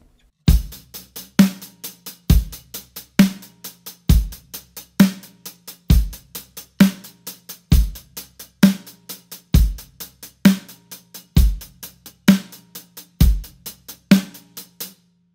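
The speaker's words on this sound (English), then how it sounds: "And let's not worry about the kick drum right away and just play a snare drum on 2 and 4." A drummer plays steady 16th notes on the hi-hat with a snare backbeat on 2 and 4 and no kick drum, in an even, close and loud pattern with no voices.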